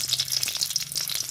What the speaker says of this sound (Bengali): তেলটা গরম হয়ে গেছে, এর মধ্যে আমি চিনিটা দিয়ে দেবো। এর মধ্যে আমি কাঁচা লঙ্কাটা,